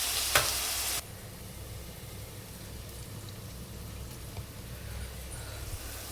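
Onions, green chilies and curry leaves hit hot oil in a pan with a brief loud burst of sizzling, then a steady, softer frying crackle continues close by with no one talking.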